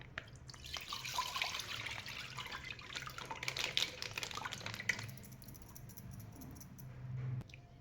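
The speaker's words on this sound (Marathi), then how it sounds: "आता याच्यामध्ये मी आता दुधाच्या पिशव्याही फोडून घेणार आहे" Milk from plastic pouches pours into a water-rinsed pot, a steady splashing liquid stream for about five seconds that then softens into quieter trickling and drips, close by with no talking.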